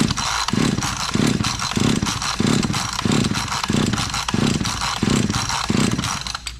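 Chainsaw pull-started with the throttle closed during a compression test, giving a rhythmic series of about nine loud, evenly spaced cranking pulses close up, with no talking.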